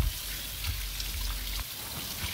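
Raw liver being rinsed under a running kitchen tap in a sink, a steady, full hiss of flowing water with small splashes and shifts as the meat is handled, close up and continuous.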